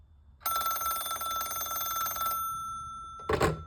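One close, steady burst of rapid metallic trilling from the bell of a Cortelco Classic phone, about two seconds long, leaves a ringing decay, followed by a short clunk or handling noise.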